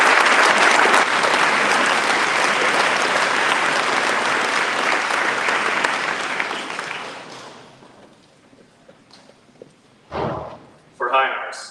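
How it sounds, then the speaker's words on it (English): Sustained audience applause for honor students at a school awards ceremony, loud and even for about seven seconds before dying away, followed by a couple of brief thumps and shuffling noises. "A round of applause"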